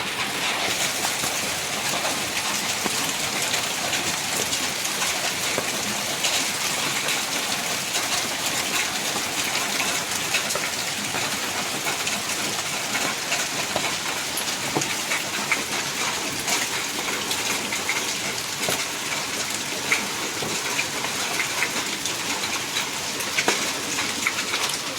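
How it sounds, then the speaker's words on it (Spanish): A heavy hailstorm in Cuernavaca pours down without pause, a dense, steady clatter and hiss of ice and rain striking surfaces close by for the whole stretch, with no voices over it. "No para de caer granizo,"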